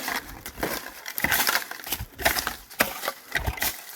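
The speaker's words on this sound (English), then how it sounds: "Cans and metal." Scratching and digging through a patch of old cans and metal at a bottle dig, a steady run of crunching, scraping and clinking with sharp irregular knocks, close and fairly loud.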